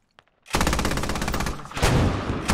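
In a video game, the heavy anti-aircraft gun on a truck fires a rapid, continuous burst of loud, close automatic shots, the steady rattle going on for about two seconds.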